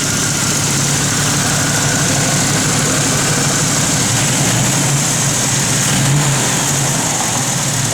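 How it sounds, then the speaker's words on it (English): A 1967 Chevrolet Camaro RS idles steadily and loudly up close, its engine drone joined by the whine of a smog pump running underneath. "You can hear a little smog pump working."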